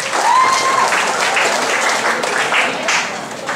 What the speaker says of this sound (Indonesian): Tepuk tangannya sekali lagi dong.